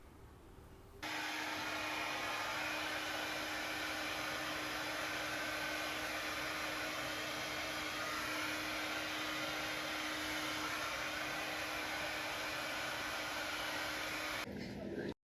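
A hair dryer runs for about fifteen seconds as a steady, loud, close whooshing roar with a constant whine, switching on abruptly near the start and cutting off sharply at the end.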